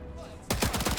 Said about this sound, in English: I love shooting Nazis more than anything else in the world